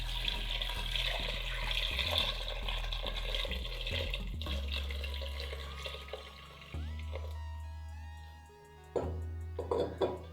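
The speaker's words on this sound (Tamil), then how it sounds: "இது ரெண்டுத்தையும் ஒரு குக்கரில் ட்ரான்ஸ்ஃபர் பண்ணிக்கலாம். ரெண்டுத்தையும் குக்கரில் போட்டுட்டு இந்த காய் முழுகிற அளவுக்கு நம்ம தண்ணி ஊற்றிக்கலாம்." Water poured into a pressure cooker holding raw banana and paneer for cutlets, a steady splashing stream that shifts in pitch and then tapers off with a few clanks of the pot.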